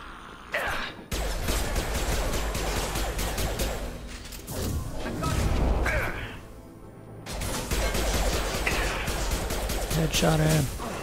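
Gunfire in a Mass Effect 2 firefight: bursts of shots and crashing impacts, loud and close, with a short pause near the start and another mid-clip, mixed with other game sounds and a voice.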